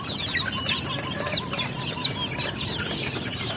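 Meat chickens being raised on a farm cluck in a steady background chorus, with a few brief louder calls standing out from the continuous flock noise.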